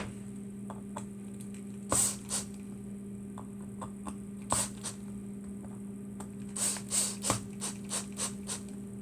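A cordless drill with its clutch set low slips and ratchets while driving small screws into a GMade GOM RC kit. Short bursts of clicking arrive a few seconds apart over a steady electrical hum.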